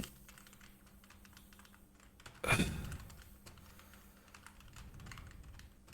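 Typing on a computer keyboard during poster design work in MS Word, a quiet patter of key clicks with one louder thump partway through, heard alone.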